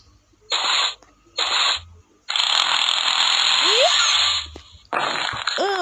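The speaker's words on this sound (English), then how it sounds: "Now we're gonna try the drill." Drill running in the video game Escaping the Prison, two short bursts of harsh mechanical rattling, then a longer sustained grinding run and a final burst, loud and close.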